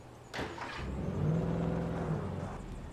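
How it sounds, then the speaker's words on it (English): A car passes in the Alan Wake video game by daytime, a steady engine whir that swells and holds near, then eases off, with no talking. "Look, a car."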